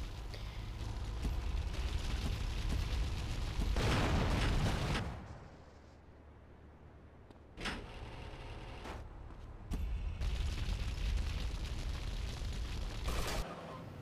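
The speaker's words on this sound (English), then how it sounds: "Use my flamethrower and it'll catch fire." A vehicle in GTA Vice City Stories, set alight with a flamethrower inside the Viceport garage, catches fire and bursts in a loud, rumbling explosion, followed by quieter crackling and further sharp bangs amid steady game ambience.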